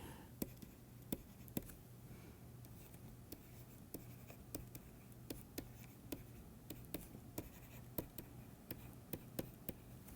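Chalk or marker strokes on a board during a binary diffusion lecture, a quiet series of irregular taps and scratches over faint room hum, with soft voice traces in the background.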